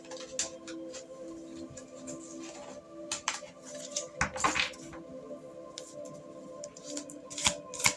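Tarot cards are shuffled by hand close up, giving soft riffling and slapping bursts with small clicks and taps between them. The sound is quiet and uneven and no voice is heard.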